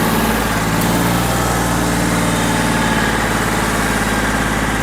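A Yanmar F16D tractor engine runs steadily at close range, a loud, continuous low throbbing drone with an even idle-like pulse and no break across the clip.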